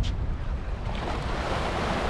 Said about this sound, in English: See the water till ahead there lashing up the seawall.